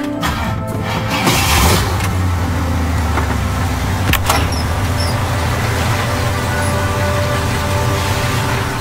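Car engine from the 2014 action film John Wick, a steady low rumble and idle running continuously at moderate level with a brief louder swell near the start, no talk over it.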